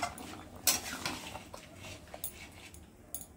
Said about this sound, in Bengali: মাংসটা রান্না করি, ঢাকা দিয়ে দিলাম আমি